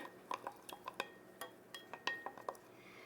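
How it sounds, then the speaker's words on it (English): Lemon juice and Dijon mustard being mixed in a bowl: a quick, irregular run of light metallic clinks and taps as a utensil strikes the bowl while stirring, close and fairly quiet. "We're gonna mix together the lemon juice and the Dijon mustard."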